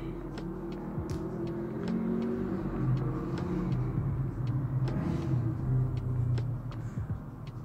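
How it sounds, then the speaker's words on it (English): A passing motorcycle with a loud exhaust, a low engine rumble that swells and fades over several seconds, heard alone at moderate distance with no talking. "sorry about the motorcycle noise,"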